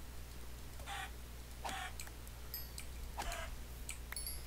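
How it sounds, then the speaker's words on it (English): Chickens cluck in the blocky survival video game Minecraft, three or four short, faint clucks spaced a second or so apart over a quiet hum, with light ticking clicks between them. "I'm gonna kill these chickens."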